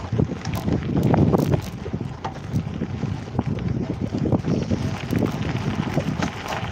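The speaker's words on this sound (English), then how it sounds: "Oh, that fucking wind" Wind buffets the microphone while riding a vintage bicycle on an unpaved road, a steady rough roar with gusting rises and falls throughout and no voices.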